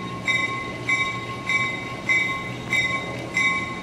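EMD diesel switcher locomotive built in 1950 for the Peoria and Eastern Railway, running at a railroad museum, with rhythmic clanking pulses repeating about every 0.6 seconds over a low rumble, plus steady high metallic ringing tones.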